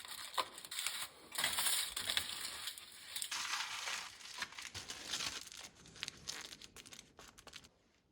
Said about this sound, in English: Fold the aluminium foil around the meat sides, ensuring that the edges are taller than the meat to hold salt.